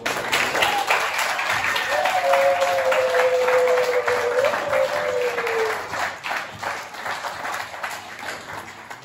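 Loud applause and acclaim from a Pentecost worship congregation in Limoges greet the pastor: thick, sustained clapping with a crowd roar, and a sustained voice or instrument tone rising above it midway before the clapping thins toward the end.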